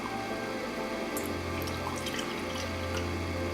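Thin Oxydol liquid laundry detergent is poured from a bottle with a broken top beside a twin tub washing machine, a soft continuous trickling and dripping under a steady low hum.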